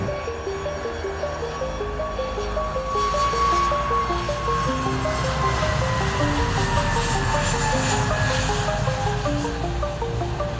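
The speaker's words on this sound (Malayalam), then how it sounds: "ഈ ടൈമിൽ കുഴപ്പമില്ലാതെ വിമാനങ്ങളുടെ അറൈവലും ഡിപ്പാർച്ചറും കാണാം" Jet aircraft arriving and departing at Kochi airport, a loud continuous engine roar with a whining tone that slowly falls in pitch, heard alone without talk.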